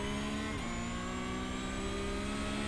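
A race car in a sim racing game at a wet Brands Hatch holds a loud, steady engine drone with a rising whine as the throttle comes back on, a brief gear-like shift partway through.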